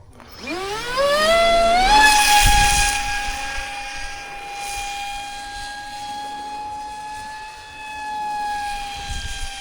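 An RC F-22 model jet driven by a small 2212 electric motor on a 3S battery whines up sharply to a high, steady tone and holds it while flying, loud and alone.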